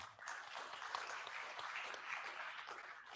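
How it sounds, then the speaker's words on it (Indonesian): An audience at a seminar on film-sector training modules bursts into continuous applause, a dense wash of many hands clapping together, steady and fairly loud throughout with no talk on top. "Kita beri aplaus dulu sama beliau yang di depan."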